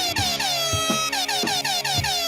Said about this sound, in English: air horns for Advent